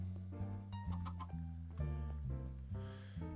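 Minecraft chickens clucking in a steady series of short, tonal calls over a sustained background tone, fairly loud and close with no talking.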